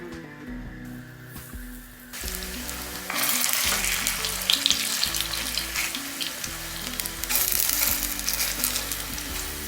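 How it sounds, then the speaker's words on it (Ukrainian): Meat and cabbage patties sizzle loudly in a hot pan, a dense steady crackle that grows stronger as more are added, with quiet music underneath. "Мокрими руками буду формувати відразу котлетки, викладати на сковорідку."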